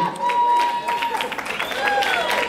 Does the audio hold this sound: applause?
yes